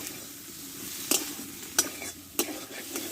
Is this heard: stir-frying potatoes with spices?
yes